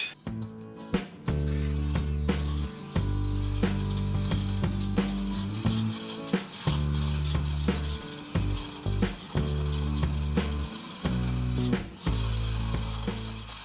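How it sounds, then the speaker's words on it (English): An electric whisk creams butter and sugar together, sped up, giving a steady, close motorised whirr with a ratcheting edge that stops briefly several times before starting again. No one talks. "you can do it with an electric whisk like me, which is much quicker"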